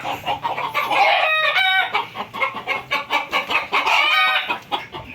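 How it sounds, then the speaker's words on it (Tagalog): Several chickens clucking in a busy, overlapping chorus with a rooster crowing among them, close by and steady throughout. "Ito yung mga manok natin oh."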